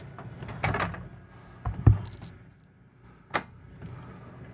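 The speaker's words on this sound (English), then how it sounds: "I'm gonna go ahead and start running this slide out." A motorhome slide-out on a 2023 Newmar New Aire 3547 extends, giving a few mechanical thunks and clunks with a low motor hum in between, moderately close.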